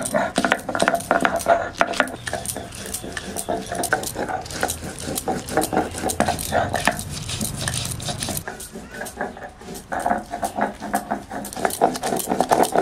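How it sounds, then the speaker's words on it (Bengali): Ginger, garlic and green chilli are ground together into a paste for a Bengali rui fish dish, making steady rhythmic scraping and knocking strokes at close range, with people talking throughout. "আদা আর রসুন আর গাছের কাঁচা লঙ্কা, কাঁচা লঙ্কা একসঙ্গে বেটে নিচ্ছি।"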